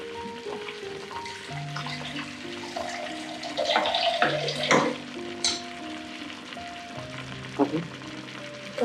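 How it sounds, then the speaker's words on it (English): Chicken curry sizzles and fries steadily in a pan as water is poured in, followed by stirring and a brief louder burst of bubbling, with no talking. "I'm adding more water to get a nice gravy."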